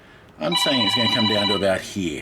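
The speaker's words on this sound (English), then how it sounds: "and that's my phone." A telephone rings with steady electronic tones right under a person talking close by, the ringing starting about half a second in and lasting most of the short stretch.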